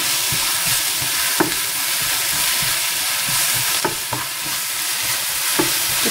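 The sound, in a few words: curry leaves frying with okra in a pan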